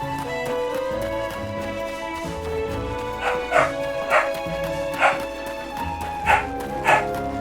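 Dogs bark in a run of sharp, repeated yips of moderate loudness over a continuous game music bed, with no voices during the barking.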